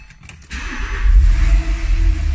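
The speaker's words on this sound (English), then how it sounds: "Engine sounds great." A 2009 Porsche 911 Carrera Cabriolet engine catches after a brief quiet moment, then settles into a steady, deep, close idle rumble that continues alone to the end.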